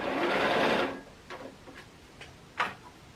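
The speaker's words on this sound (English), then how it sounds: "If they can hear me though above the sewing machine," A sewing machine runs a short burst of quilting stitches, a dense close mechanical whir lasting about a second, then a few light clicks and taps as it stops.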